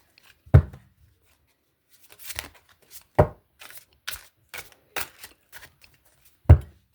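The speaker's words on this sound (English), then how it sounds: "These cards are extremely hard to shuffle" Hard-to-shuffle new oracle cards being shuffled by hand, a string of crisp riffling and slapping bursts at uneven intervals in an otherwise quiet room, with no speech.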